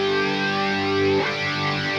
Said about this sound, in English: I'm going to set it so that it's all the way wide, hard left and right.